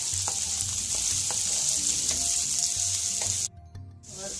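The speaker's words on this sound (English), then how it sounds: "Let it fry till golden brown." Onions frying in a pan until golden brown give a loud, steady, close sizzle with occasional spoon scrapes, then the hiss cuts out abruptly near the end before resuming more softly.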